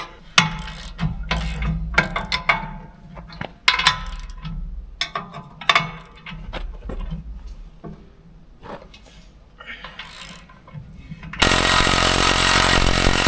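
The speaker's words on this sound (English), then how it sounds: "we'll pull this bolt out and slide a press wheel off" Removing a bolt on an air seeder press wheel with a ratchet: close, irregular bursts of clicking and metallic rattling with pauses, followed by a loud steady mechanical noise at the end.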